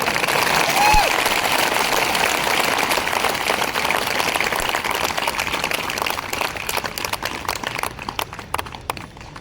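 An audience of polling booth workers in Guna claps in a dense, sustained round of applause that gradually thins and fades toward the end, with a brief voice near the start.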